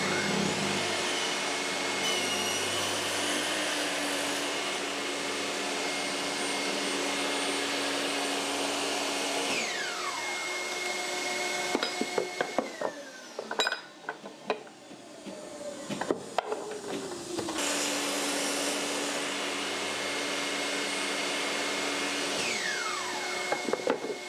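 A job site table saw runs with a crosscut sled cutting a trench, a loud steady whine that winds down mid-way amid clatter and small knocks, then spins back up to full speed.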